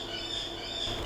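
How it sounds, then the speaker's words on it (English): Birds chirp steadily and close by, several high twittering calls layered over one another, with a slightly louder flurry at the very end and no one talking. "Shut up, birds."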